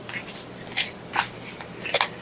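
Tarot cards shuffled by hand in several quick riffling bursts, close and crisp with short gaps between them.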